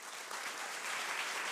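Brief, thick applause from an audience at a talk with Palestinian doctor Ghassan Abu-Sittah, an even wash of many hands clapping that swells slightly toward the end.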